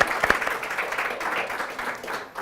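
Applause from a room of therapists at a couples and sexual communication session, steady dense clapping lasting a couple of seconds at moderate level, no talk over it.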